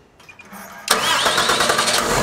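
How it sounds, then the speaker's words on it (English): A Cummins engine cranks on its starter during a battery load test, with a loud, close whirring grind that kicks in abruptly and holds steady to the end, preceded by a few faint clicks. "I'm going to crank the engine, and it's going to lower the voltage"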